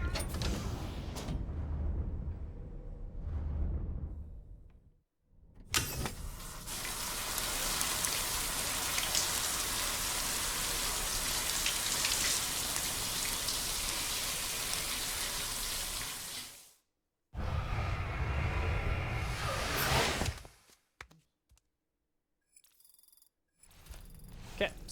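Steady heavy rain falls in the video game Death Stranding 2, a dense continuous hiss that cuts off abruptly, returns in a short burst, then gives way to scattered faint sounds.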